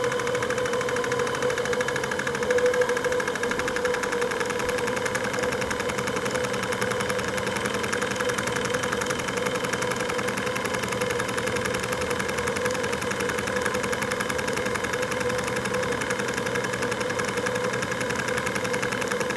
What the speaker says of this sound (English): I'll see if we can take the engine revs.